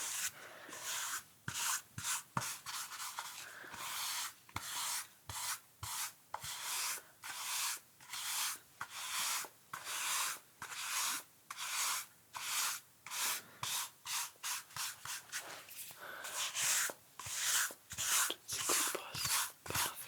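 Hair being brushed in a French salon, a steady run of soft rhythmic bristle strokes, each a short airy swish repeating about once a second, close and quiet with no talking.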